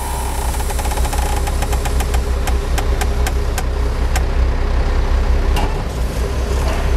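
Truck engine idling and pulling lightly during an air brake tug test in Manitoba, Canada, a steady loud diesel rumble with rhythmic knocking and repeated sharp clicks, close and with no talk.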